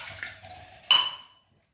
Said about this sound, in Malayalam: അതിലേക്ക് നമുക്ക് ഒരു ഗ്ലാസ് വെള്ളം ഒഴിച്ച് കൊടുക്കാം.